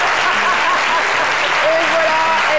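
A studio audience breaks into loud, sustained applause that fills the room at an even level throughout, with faint voices and a brief whistle-like tone rising over the clapping.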